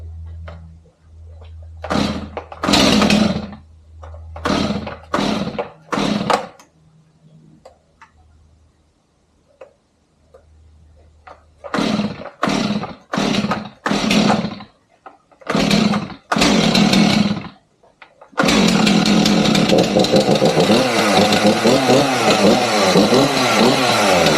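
A STIHL MS 500i chainsaw being tested, with loud close bursts of revving in short repeated blips, pauses between them, then a sustained high-revving run to the end.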